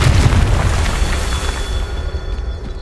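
A Confringo blasting spell explodes in the Hogwarts Legacy video game, giving a loud, deep, rumbling boom that fills the whole stretch and slowly fades.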